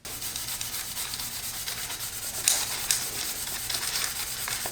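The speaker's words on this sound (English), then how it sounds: "just taking some red Scotch-Brite, just a little pad here, and rubbing it along through here." A small red Scotch-Brite pad rubs along aluminum AC lines on an Evo 9, giving a steady, close scuffing hiss that carries the whole stretch, with a couple of sharper strokes about midway.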